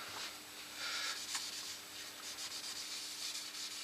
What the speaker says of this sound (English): so I'm just going round and I'm just buffing up